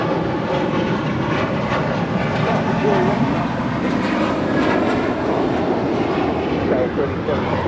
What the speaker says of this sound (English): That was American Airlines 1315 departing to Atlanta on an A321.